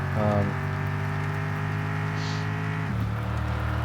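A truck engine in the game Mon Bazou drones loudly at a steady high rev while driving, then drops in pitch near the end as the revs fall.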